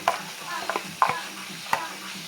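Tomatoes frying in oil for veg biryani crackle softly in the pan, broken by a few sharp clicks of a spoon stirring against the vessel.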